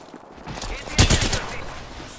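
Gunfire in a video game, a burst of several rapid shots peaking at the center amid noisy combat ambience.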